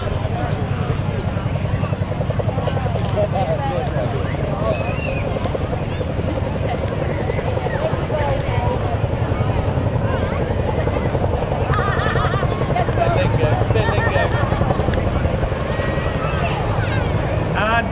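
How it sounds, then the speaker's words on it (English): A Chinook helicopter flies at an Armed Forces Day airshow in Falmouth, Cornwall, its continuous rotor thrum and engine roar mixed with wind buffeting the microphone, while a commentator talks over it. "also gave the opportunity to demonstrate the Chinook's astonishing power-to-weight ratio."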